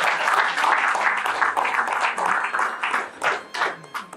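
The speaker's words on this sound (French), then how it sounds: "nous allons acclamer pour papa les enfants" Guests at an official wedding ceremony break into brisk applause, dense clapping close by that thins into scattered claps toward the end, with a few voices faintly mixed in.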